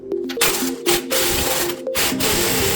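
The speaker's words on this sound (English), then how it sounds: "I just had to put a wrench on that" A wrench works loose a nut on a 2002 BMW X5 E53 rear control arm, giving a series of close metallic ratcheting clicks and clunks in short bursts with brief pauses between strokes.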